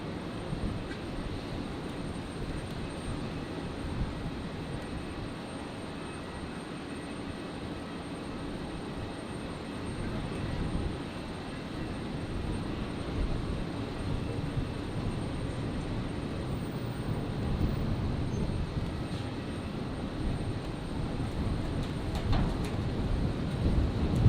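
A Virgin Australia Boeing 737 arriving from Port Vila on runway 01 right at Brisbane on a stormy night gives a distant, steady jet rumble that swells gradually louder toward the end, with no voices.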